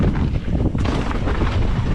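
Strong, steady wind on a mountain ridge in Nevada, a continuous roaring rumble buffeting the microphone for the whole stretch with a brief gust swell partway through, loud and close.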